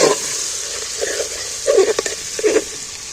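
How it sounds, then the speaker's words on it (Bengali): Onions are stirred and fried in a pan, giving a soft, steady sizzle with a few louder scraping bursts of stirring, heard close up and without talk. "এইবার আমি এই পেঁয়াজগুলো তুলে দিই এর মধ্যে কষতে"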